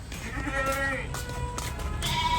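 Goats bleat amid a crowded goat market, with several wavering calls rising over a busy background of crowd noise, fairly close and repeated through the moment.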